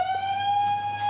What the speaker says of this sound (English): Yeah, we're sounding the alarm now.